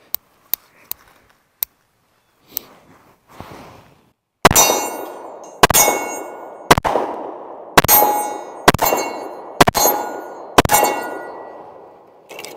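An Alchemy Prime Elite pistol fires hollow-point rounds. A few faint, sharp reports come first, then about eight loud, sharp shots at irregular intervals, each ringing out with a metallic tail, and no one speaks.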